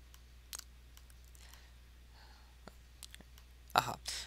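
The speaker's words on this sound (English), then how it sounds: "I'm just going to left click these one time a piece." Single left clicks of a computer mouse while the Command key is held in Illustrator, sounding as sparse, faint, close ticks spaced apart in a quiet room, with soft breathy noise between them.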